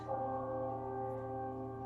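A bell tolls once and its tone rings on, a sustained resonant hum with several steady overtones that slowly fades, heard alone without speech.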